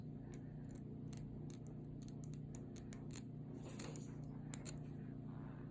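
Scissors snip slowly through the lace edge of a wig, making a string of faint, crisp clicks in small bursts against a quiet, steady background.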